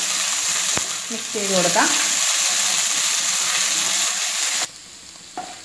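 Ginger garlic paste fries in about a tablespoon of hot oil in a pan, a continuous loud sizzle with a spoon stirring and scraping, then the frying drops quieter near the end; a voice speaks briefly over it.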